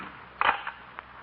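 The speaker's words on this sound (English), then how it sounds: "I heard the door slam." A door slams shut once in a muffled, narrow-sounding old radio recording: one dull thump with a brief rattle after it, then quiet room tone.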